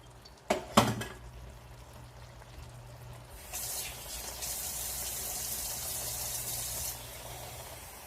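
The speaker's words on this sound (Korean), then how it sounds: "한 500ml 정도 저는 물을 붓도록 하겠습니다" Dishes clink sharply a couple of times, then water pours steadily into a pot of seasoned meat for a few seconds before stopping.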